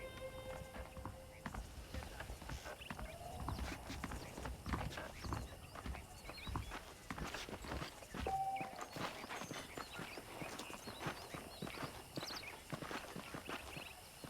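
Steady clip-clop of saddled horse hooves walking at an even pace in Red Dead Redemption, moderately close, with a faint whinny and ambient outdoor sounds throughout.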